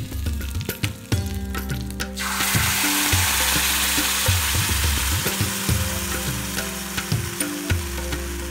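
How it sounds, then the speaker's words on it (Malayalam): Ground roasted-gram chutney poured into a hot tempering of broken dried red chili and curry leaves, bursting into a loud, steady sizzle after a few clinks, then bubbling and crackling on without any voices. "ഒരു ഉണക്കമുളക് പൊട്ടിച്ചത്, കുറച്ച് കറിവേപ്പില ഇട്ട് നമ്മൾ അരച്ചു വെച്ച ചട്ടിനി ഒഴിച്ച് തീ ഓഫ് ചെയ്യാം."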